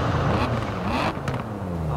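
A steady engine drone with rising and falling revs, like a car being driven hard and drifted in Forza Horizon, continuous and fairly loud with no talking.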